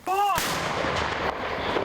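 An American M777 howitzer fires during the Russia-Ukraine war, a single sharp, very loud blast that follows a short tonal whistle, then a long rumbling roar and echo rolling on afterward.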